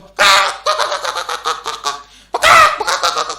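A voice imitates a chicken with two loud, strained squawking bursts, the first drawn out with stuttering clucks, the second sharp and abrupt, close and dry.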